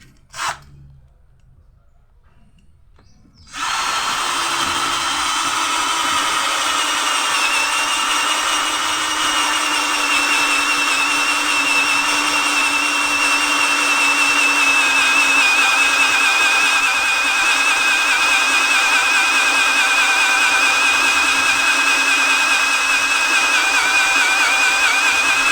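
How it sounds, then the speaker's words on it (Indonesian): A Morris 16.8V brushed cordless drill with a 20 mm spade bit runs at a steady whine after a brief click and pause, loud and close, continuing unbroken for over twenty seconds with no talk. "Bor kipas 20 mili."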